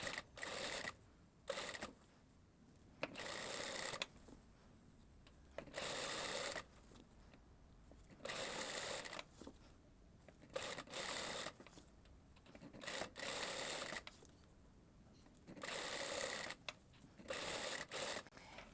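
Stitching a blouse seam, a sewing machine runs in short, close bursts, starting and stopping again and again with quiet handling of fabric in between.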